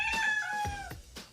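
A house cat gives a drawn-out, insistent meow with clear tonal harmonics, followed by a couple of shorter cries, close and loud in an indoor room with no talking.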